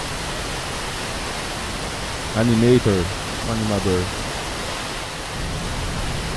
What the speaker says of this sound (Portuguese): A cachoeira aqui, galera, que eles falaram, ó, tá vendo? A cachoeira.